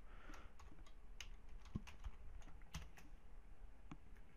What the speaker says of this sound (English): typing all these in, making sure not to make an error.